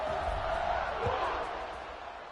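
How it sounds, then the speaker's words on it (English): A stadium crowd buzzes in the NCAA 26 college football video game after a score, a dense steady roar with a faint muffled thump partway through, gently fading toward the end. "this crowd is buzzing after that last score."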